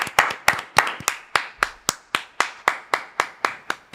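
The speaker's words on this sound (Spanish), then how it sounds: "por favor, aplausos." Loud, crisp hand claps keep a steady, even beat, about fourteen in four seconds, as an audience claps in unison during an intro performance.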